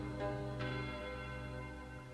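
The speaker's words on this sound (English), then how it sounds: "The ringing of the division bell had begun." A church bell rings in a live performance. Two close strikes sound early, and a resonant, humming tone then slowly fades.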